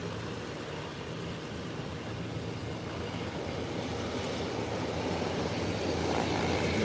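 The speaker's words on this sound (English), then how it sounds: "the Embraer 120 Inter-Caribbean is rolling out, heading into Grand Turk" An Embraer 120 turboprop of Inter-Caribbean taxiing at the Grand Turk airport, a steady broadband engine and propeller drone at moderate distance that swells slightly louder toward the end, no voices.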